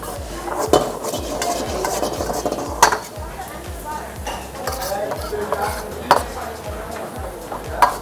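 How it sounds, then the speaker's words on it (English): Pad Thai being stir-fried with its sauces in a pan at a cooking school, with a steady scraping and stirring texture and sharp utensil knocks against the pan at irregular intervals, under low background noise. "we make sure that the sauces melt together and are well incorporated in our stir fry."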